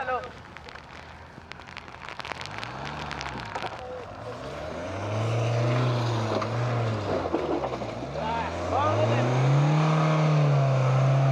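4x4 off-road vehicle stuck in mud at an extreme off-road challenge in the Sahyadri hills: an engine revving up and down in repeated surges, growing louder and straining in the second half, with some talking early on.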